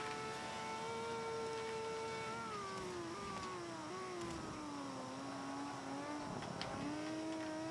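Simulated car engine from Forza 5 driving a tuned lap, a steady sustained drone whose pitch glides up and down with shifts and revving, continuous and fairly loud with no talk.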